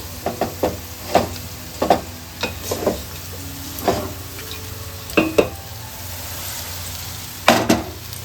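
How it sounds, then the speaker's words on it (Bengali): Vegetables and rice are tossed in a pan for no-onion, no-garlic veg fried rice, a light sizzle beneath repeated scraping spatula strokes and clinks against the pan, irregular and close. "এবার আমি অল্প অল্প করে এই সবজিগুলো মিশিয়ে দেব রাইসের সাথে"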